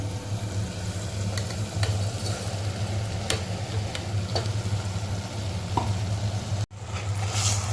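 Soaked rice stir-fried with cooked spices in a pan for moong dal khichdi, giving a steady close sizzle throughout, broken by occasional light clicks and scrapes of the stirring utensil.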